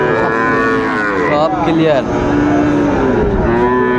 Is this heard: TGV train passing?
no